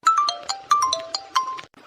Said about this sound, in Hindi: अरे ये तो मम्मी का फोन है।